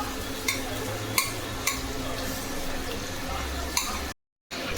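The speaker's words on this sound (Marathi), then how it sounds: "पहिला कांदा फक्त कांदाच परतून घ्यायचा आहे. ते पण फास्ट वरती." Onion sautéed on high heat in a pan gives a steady sizzle with periodic scraping stirs of a spatula, close and even, briefly cutting out near the end.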